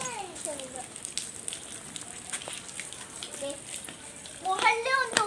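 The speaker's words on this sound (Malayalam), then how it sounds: "ഇത്തിരി ചെടികളുണ്ട്, അതിനും കൂടെ ഒഴിക്കാം" Water poured from a container onto garden plants, a soft splashing patter under a child's and adult's voices nearby.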